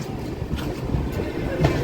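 A train slows to a halt at Kadur Junction railway station, heard from on board as a low, rumbling rolling noise with soft clanks, close and steady, while a voice talks over it.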